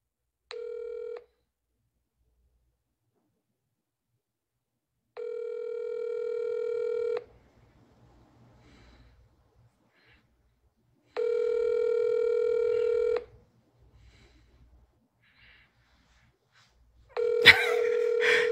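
An outgoing phone call rings back in evenly spaced tonal bursts, each about two seconds long with silent gaps between them, and a sharp clatter comes at the very end.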